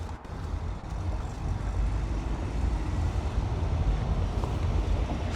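A steady, loud low-pitched whirring roar fills the space without pause, a fan running close by inside a stripped-out BMW car cabin.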